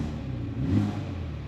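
A BMW X3 M40i six-cylinder engine gives a short, moderate rev, a low rumble that swells briefly and settles again, with no voices.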